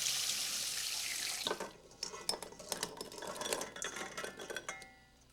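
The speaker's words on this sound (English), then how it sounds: "Then just rinse them under cold water to shock them so they go and pull away from the shells a bit." Cold tap water runs steadily into a sink as food is rinsed, then the flow cuts off and clinks and rattles of dishes and handling follow, close by.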